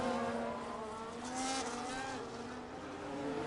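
A Ferrari Formula 1 car in an F1 racing game drones past with a steady, rising and falling engine whine, heard close and alone for a few seconds.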